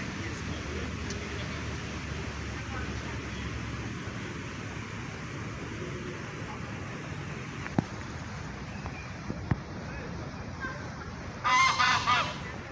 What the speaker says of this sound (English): Mother Goose is still making noise